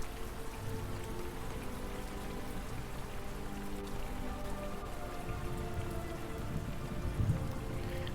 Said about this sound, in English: It's hard to see through the rain